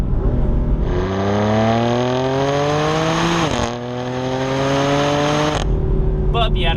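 A turbocharged BMW M4 Dinan S2 engine screams upward in pitch through a long rev toward its 7,500 RPM redline, drops sharply at a gear change, climbs again, then cuts off abruptly.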